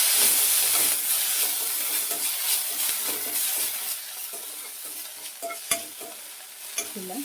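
Chopped nelanelli greens frying in a pan, a steady loud sizzle with repeated scraping and stirring strokes close by, a few sharper clinks of the utensil near the end, no talking.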